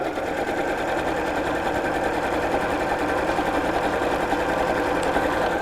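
A sewing machine stitches steadily up close while sewing a crossbody bag, an even rapid mechanical whir and needle patter running unbroken for several seconds, with no talk.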